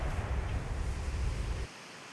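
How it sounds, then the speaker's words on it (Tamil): Floodwater roaring over Agasthiyar waterfall in the Papanasam hills of the Western Ghats, a loud continuous rushing wash with heavy low rumble that drops off abruptly near the end. "அகஸ்தியர் அருவியில் வெள்ளப்பெருக்கு ஏற்பட்டுள்ளது"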